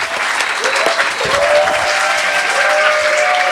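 Audience in a comedy club breaks into loud, sustained applause that fills the room steadily throughout, with a few cheers and whistles rising over the dense clapping.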